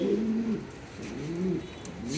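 Pigeons cooing close by, two soft low throaty coos in a short rhythmic sequence, alone without talk.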